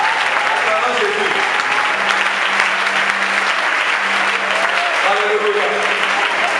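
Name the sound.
congregation applauding and acclaiming Jesus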